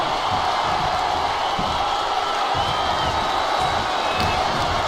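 A capacity wrestling arena crowd during a WWE live match roars continuously as a dense, loud wall of cheering and noise, with no clear individual voices.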